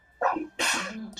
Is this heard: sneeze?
yes